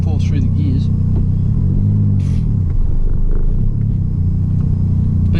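Suzuki Cappuccino's small engine rumbling steadily while being run through the gears, with rising and falling rev sweeps and a continuous drone, heard from the cabin alongside a voice.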